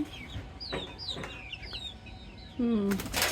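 Chickens on a farm cluck in short, near calls on an overcast day, several birds overlapping, with a louder, longer call rising at the end.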